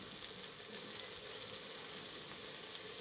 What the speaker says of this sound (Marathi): आता टोमॅटो भाजतोय तोपर्यंत 1-2 मिनटं टोमॅटो आपण भाजून घेऊया